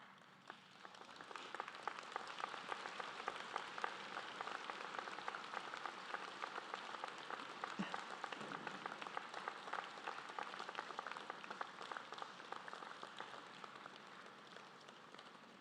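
Sustained applause from a standing audience at a university convocation fills the hall with dense, even clapping for over fifteen seconds, steady and fairly distant, with no talking over it.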